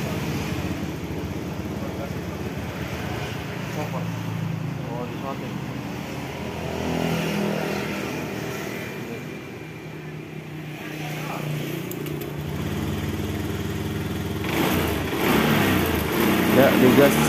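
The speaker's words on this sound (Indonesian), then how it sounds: "Ya, dan motor bisa langsung digas ya teman-teman" Honda Beat FI ESP scooter engine revving steadily and strongly after a fuel pump pressure fix, a continuous buzzing drone rising toward the end, with someone talking over it.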